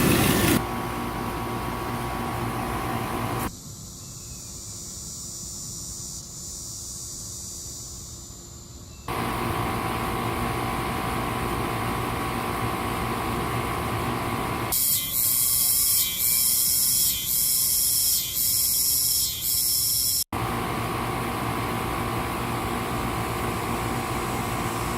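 An air conditioner with an internal bearing problem runs with a continuous loud hum and broadband hiss, its tone and level shifting abruptly between sections, with a harsher rattling whir in the middle.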